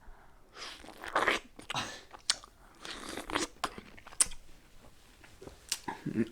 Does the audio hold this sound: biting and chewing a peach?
yes